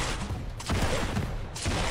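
Rocket fire in a Quake-style arena shooter duel match, loud whooshing launches and blasts in quick succession, with a dense, continuous game-audio bed and no talking.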